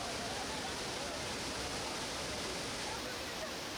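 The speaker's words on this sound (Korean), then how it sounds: "폭포의 울림소리가 숲을 울리며 멀리 메아리친다 해서 울림폭포" Ullim Waterfall pours through a forest as a steady, dense roar of rushing water, unbroken and even throughout, with no voices over it.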